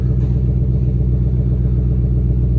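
Steady, loud low rumble of a 2020 Shelby GT500 V8 at idle or light throttle, with even, continuous exhaust burble and no talking.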